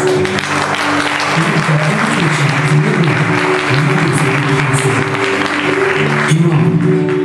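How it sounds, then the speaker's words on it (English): Steady applause from an audience at a talk, dense clapping that continues throughout without breaks, with some low murmuring underneath. "Please give them a round of applause."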